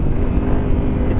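A Yamaha Tenere 700 motorcycle engine runs steadily while being ridden, a brief, loud, close rumble mixed with wind buffeting.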